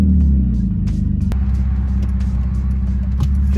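BMW E46 with an M54 straight six running catless eBay headers and a straight-piped exhaust, giving a loud, deep droning rumble under light throttle, steady and close with faint background rattles.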